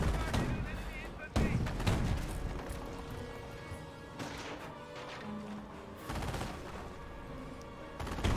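Rapid rifle and machine-gun fire with heavy explosive booms in a Company of Heroes battle between Panzer Elite and US forces, dense and loud throughout, with a voice heard over the combat.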